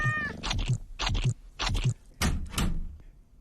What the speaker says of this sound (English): And through the cat flap we have gone.